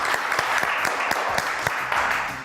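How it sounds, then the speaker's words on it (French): A studio audience applauding loudly and steadily at a French TV show, dense continuous clapping with a few sharper individual claps standing out, close and sustained throughout. "j'ai l'honneur d'accueillir la divine Jessie G, que je vous demande d'applaudir très très fort"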